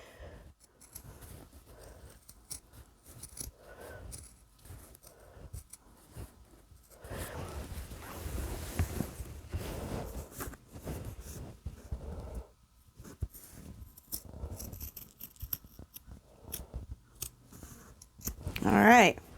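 Scissors snip through quilted fabric for a Christmas tree skirt, a run of close, crisp cuts that swells louder midway, with a voice talking over parts of it.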